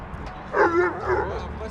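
A guard dog at an abandoned prison lets out two drawn-out, yelping barks at middle distance, the first louder than the second, over a low background hum.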